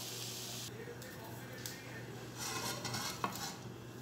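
Vegetable spaghetti with chicken being mixed in a pot after the flame is turned off, with soft scraping and a few clinks of a utensil against metal, fairly quiet and close.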